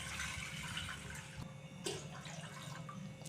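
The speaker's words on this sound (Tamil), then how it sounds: "இப்போ இதில் ஒரு 600 ml தண்ணி சேர்த்துக்கிறேன்." About 600 ml of water poured into a cooking pot in a home kitchen, a continuous gushing splash with a brief clunk partway through, fairly quiet and with no one speaking.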